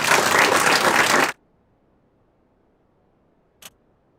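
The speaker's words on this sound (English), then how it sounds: "So let's give them a round of applause." A short burst of dense applause at an awards event stops abruptly after about a second, leaving silence broken only by one brief, sharp click later on.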